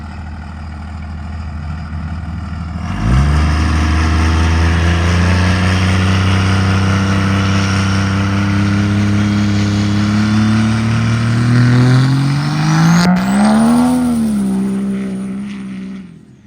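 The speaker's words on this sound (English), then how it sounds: "So we got a little dirt drag race gonna happen here." A car on a grass and dirt drag strip at a dirt drag race, its engine roaring up loudly and holding a long sustained drone with rising pitch, then revving higher near the end before fading.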